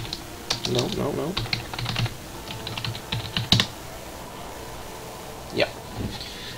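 Clicking keys on a computer keyboard, typed in irregular short bursts close to the microphone, with a person talking over much of the typing.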